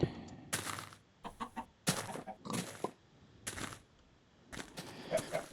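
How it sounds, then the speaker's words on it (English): Chickens cluck in a video-game farm, a series of short, fairly close bursts repeating irregularly, with no talk over them. "Chickens are happy."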